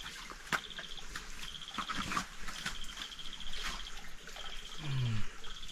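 Crickets chirp in dense jungle in repeated bursts of high, buzzy pulses, with gaps between them, over soft background rustling and a low murmur of water.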